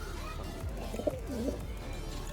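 Fancy pigeons coo softly in a loft, a couple of low murmured coos under a heavy background rumble.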